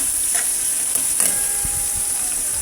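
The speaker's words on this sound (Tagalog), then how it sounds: "Ngayon muna natin tostahin yung garlic." Garlic toasts in hot oil in a pan for a stir-fried bok choy dish, giving a steady hiss with a few small crackles and scrapes from stirring. It sounds close and carries on without pause.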